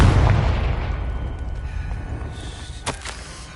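A Confringo spell explosion in Hogwarts Legacy on PlayStation 5 gives a loud booming blast at the start that rumbles and slowly decays, with a sharp crack near the end.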